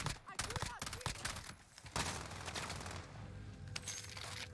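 Rapid automatic gunfire from a sentry gun in the Warzone video game on Rebirth Island, with loud, dense bursts of shots near the start and continuous battle noise after, under a voice.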